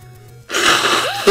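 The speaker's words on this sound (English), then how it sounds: "Shit, I got another sneeze, man." A man's wheezy, breathy sneeze, loud and close, starting with a sharp rush of air and ending in a short vocal squeak.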